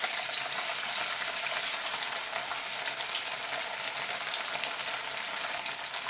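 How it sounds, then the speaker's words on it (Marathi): Semolina (rava) sticks deep-fry in hot oil with a steady, dense sizzle and crackle that holds evenly throughout, close and unbroken, with no voices. "याच पद्धतीने मी अजून काही स्टिक तळून घेणार आहे"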